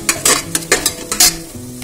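Spices stir-frying in a home kitchen pan, with repeated bursts of scraping and sizzling from stirring, close and fairly loud, with no one talking.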